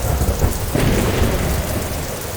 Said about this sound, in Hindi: अचानक जोर से बिजली कड़कने की आवाज आई और बड़ी बड़ी बारिश की बूंदें आसमान से गिरने लगीं